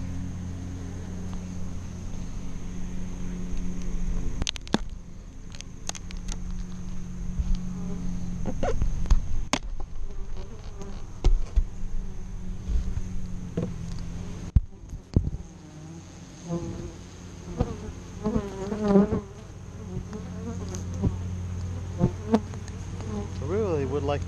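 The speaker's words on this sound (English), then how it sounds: "Wow, this hive is full of bees." Bees drone loudly inside an open beehive, a dense steady buzz close by, with individual bees whizzing past the listener and occasional handling knocks.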